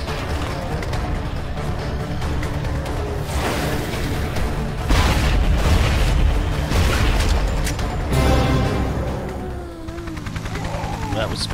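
Explosions go off in the zombie-driving video game Zombie Driver HD: repeated heavy booms mixed with bursts of gunfire and whooshes, dense and loud, with a brief lull near the end.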